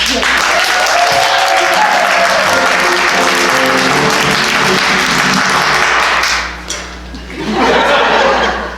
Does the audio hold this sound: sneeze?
no